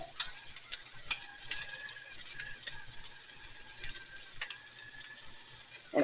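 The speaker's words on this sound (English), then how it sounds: "I'm not sure if you can hear the sizzle" Vegetables fry in a pan with a faint, continuous sizzle, broken by light scraping and clicking as they are stirred, quiet and close with no talking.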